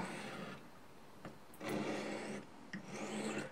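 A knife blade drawn across a Fallkniven DC3 pocket sharpener on a finer grit gives quiet, dry rasping strokes, a short scrape near 1.3 seconds followed by two longer, louder passes close to the ear.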